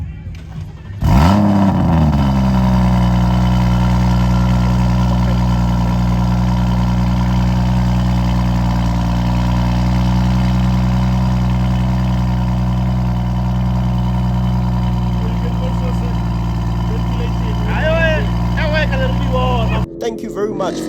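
A car engine cranks and catches, then settles into a loud, steady idle that runs close by for about twenty seconds, with faint voices near the end.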